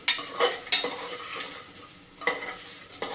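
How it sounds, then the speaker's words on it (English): Pork being stirred with ginger paste in a hot pan, a utensil scraping and tossing the meat in a few distinct close strokes over a quiet frying sizzle, with no voices. "Now we can add ginger paste, and you can mix it"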